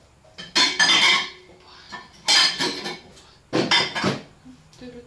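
Dishes and cups clatter and clink in three separate bursts as they are handled and set down, with short quiet pauses between.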